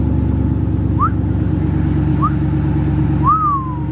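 A Koenigsegg Regera cruises with its windows down, a steady low engine and road drone filling the cabin, broken by three short rising whistles that are heard up close.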